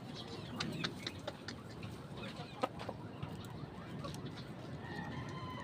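A chicken clucks in short, scattered bursts at close to mid distance over a constant farmyard hiss, with a few sharper squawks breaking through.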